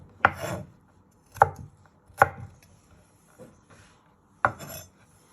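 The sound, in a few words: knife chopping garlic finely on a board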